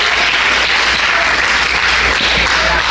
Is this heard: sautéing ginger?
no